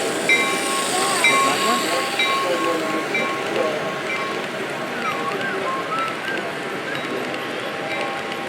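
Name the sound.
train running at a train show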